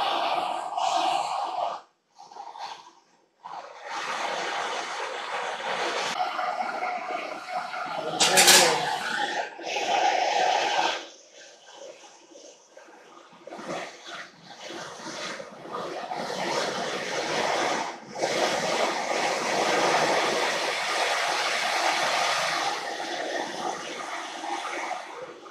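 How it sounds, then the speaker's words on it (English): An oxyacetylene torch wide open at full flame, melting gold with bone ash: a loud, breathy roaring hiss that drops out briefly and returns several times, with someone talking over it. "And I'm wide open on the torch"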